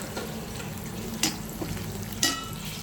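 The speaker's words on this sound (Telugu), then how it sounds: "ఇప్పుడు పచ్చిమిరకాయలు వేసుకోండి." Green chillies and onions frying in a pan for a brinjal capsicum fry, a soft steady sizzle with a couple of sharp stirring clinks.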